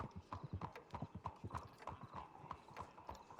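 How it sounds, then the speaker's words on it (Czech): A horse's hooves clip-clop in a steady, even rhythm on a hard surface at moderate distance, each strike sharp and evenly spaced, with no speech over it. "viděli jste toho velkého koně?"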